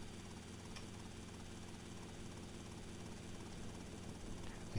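A helicopter in the GTA Vice City video game drones steadily with a constant rotor and engine hum, moderately quiet and unchanging throughout, with no voices.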